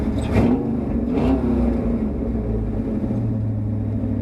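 A 1966 Ford Bronco with a 393 engine idles with a steady low rumble, close and continuous, with a couple of brief bursts of engine noise near the start.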